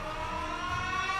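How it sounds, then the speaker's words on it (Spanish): An air raid siren warns of incoming drones in wartime, sounding as a sustained, steady wailing tone that holds level throughout without any voices. "Las sirenas."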